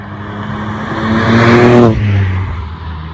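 A Ford Fiesta ST Mk8 three-cylinder, tuned to 250 hp with a Puma Speed intake, accelerates hard while driven. Its engine note climbs steadily and loudly, drops briefly as if shifting gear, then carries on without talk.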